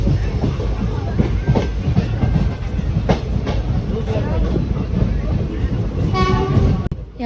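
Train pulling into Gholvad station platform at dusk, loud rumbling wheels with clattering rail joints and squeals, a brief horn-like tone near the end.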